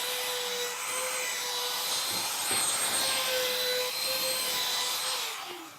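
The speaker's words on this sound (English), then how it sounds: "Hit these corners with the 1/8 round over." A router fitted with a 1/8 round-over bit cuts the corners of wooden handrail posts on a new deck, giving a steady, loud motor whine with a grinding edge that runs without a break for several seconds.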